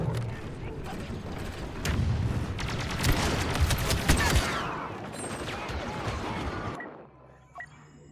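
A grenade blast and rolling gunfire crackle through a Star Wars Battlefront II firefight, loud and dense for several seconds before cutting off abruptly near the end.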